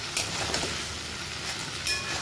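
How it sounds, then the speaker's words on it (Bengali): Cauliflower and potato pieces sizzling in hot oil in a pan with a steady hiss, a spatula now and then scraping through them, close and continuous. "এবারে আমি ফুলকপি আর আলুটা এটার মধ্যে দিয়ে দেবো, ভালো করে মিশিয়ে নেব।"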